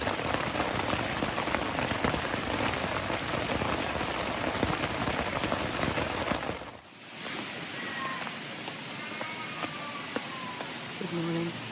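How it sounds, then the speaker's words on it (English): Heavy rain drums densely on a tent at a campsite in Royal National Park, then eases to a lighter patter with scattered drops and faint chirps near the end. "That's not a light shower."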